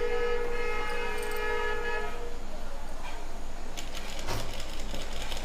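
A sewing machine runs steadily while stitching the mouth of a lined trouser pocket, its even mechanical whir continuous and close, with a faint hum and some clatter near the end.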